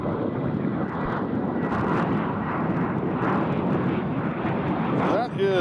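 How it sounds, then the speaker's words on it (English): A fixed-wing airplane performs a go-around at Nashville International Airport: a loud, steady jet-engine roar fills the whole stretch without letup. "this is our first go-around"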